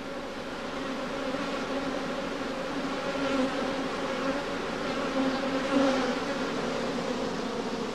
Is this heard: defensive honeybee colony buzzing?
yes